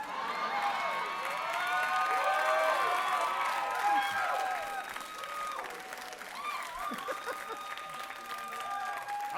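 A stand-up comedy club audience applauds and cheers, with women's whoops rising over steady clapping that swells early, then settles into lighter applause and shouts.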